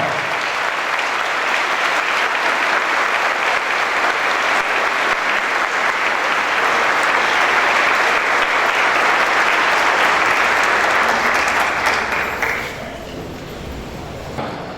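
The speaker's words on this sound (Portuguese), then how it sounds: "pedimos uma forte salva de palmas para eles" A lecture audience in Maringá gives loud, sustained applause for a fanfare band. The clapping holds steady for about twelve seconds, then quickly fades away.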